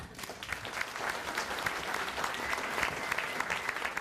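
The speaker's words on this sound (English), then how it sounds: "Please remain in your seats and give a standing ovation to Mr. Patrick Austin" An audience at a roast gives a standing ovation, dense continuous clapping from many hands, fairly distant and even throughout.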